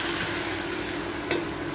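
Ground spice paste sizzles steadily in a hot pan while being stirred for a Marathi jitada fish curry, a close continuous frying hiss with a single scraping stroke and no talking.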